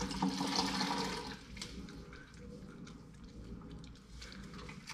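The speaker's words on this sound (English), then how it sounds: "and wring it out." A wet rag is wrung out over a bucket of cleaning solution, water trickling and splashing back into the bucket at low level, faint and continuous with a stronger pour at the start, no talking.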